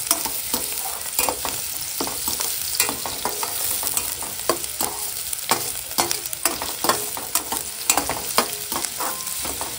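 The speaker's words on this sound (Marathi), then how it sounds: "कांदा व्यवस्थित परतून घ्या." Onion sautéing in a hot kadhai, with a steady close sizzle of frying and repeated scraping, clattering strokes of a spoon stirring through the pan throughout.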